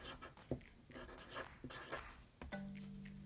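Pen or pencil scratching across paper in short strokes while numbers are written down, close and fairly quiet, ending with a steady hum.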